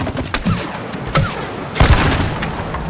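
Gunfire in the video game It Takes Two: a few loud booming shots and bursts at irregular intervals over game background sound.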